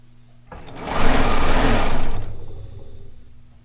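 A serger stitching a long seam on slick kimono fabric, its motor whirring up into a steady loud buzz for about two seconds and then slowing down, close by with no talk.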